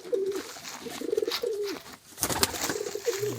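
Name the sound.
pigeon chick calling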